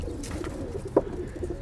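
Pigeons kept in a loft give a single soft coo amid low background murmur, faint and brief.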